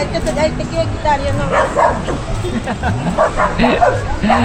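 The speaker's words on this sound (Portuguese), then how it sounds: "Aí, ó, o cachorro gosta da bola." A dog yips and barks excitedly while playing with a ball at Huacachina in Ica, Peru, short repeated barks mixed with people talking and chatter nearby.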